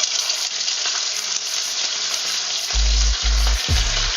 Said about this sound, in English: Now we can start frying.